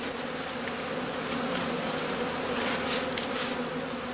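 Honey bees buzz steadily in a weak skep colony at a heather-blossom apiary, a dense, continuous drone that stays close and even throughout with no voices.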